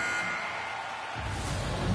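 An end-of-period horn buzzes at an ice hockey game, a sustained electronic blare over the arena's steady background noise.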